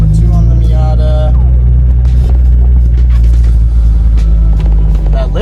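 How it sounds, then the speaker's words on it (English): A Mazda Miata on a test drive, its engine running with a lifter tick, gives a loud, steady low drone and rumble throughout, with faint higher clatter riding on top. "That lifter tick is going"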